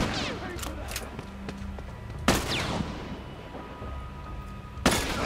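Gunfire in The Last of Us, heard as sharp, loud single shots spaced a few seconds apart over game ambience, with a voice imitating the booms between them.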